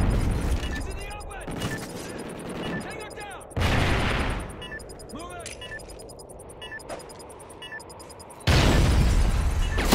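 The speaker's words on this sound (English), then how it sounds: "Tossing a stun grenade." A stun grenade goes off in a multiplayer shooter video game, with loud booming blasts at intervals against gunfire and chirping game effects, under steady radio-style voice chatter.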